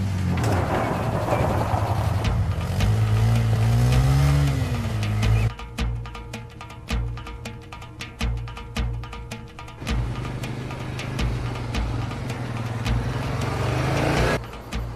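An armored car accelerates hard during a chase, its engine revving loud and close with a rising tone, then steady engine drone with rattling and clicks, ending in another surge.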